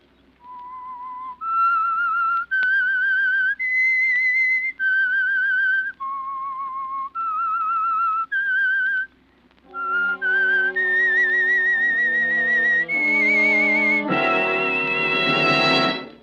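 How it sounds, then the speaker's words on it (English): A person whistles a slow, eerie melodic tune alone, the signal tune of the 1946 radio drama The Whistler, clear sustained notes rising and falling, joined partway through by a swelling orchestral chord. "That whistle is your signal for the Signal Oil Program, The Whistler."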